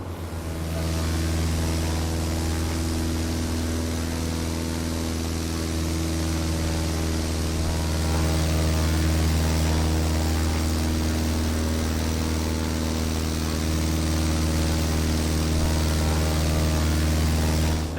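Steady droning propeller engine of a Just Flight Arrow light aircraft in Microsoft Flight Simulator, a constant low hum with tonal harmonics, held evenly and alone throughout.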